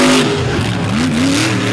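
A race truck at Fowlerville running flat out on the track, its engine loud and close, pitch dipping then climbing back up in a hard rev, with a rough roar and tire noise.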